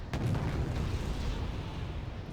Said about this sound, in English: This is going to be first shot, and the Gurkhas do shoot first.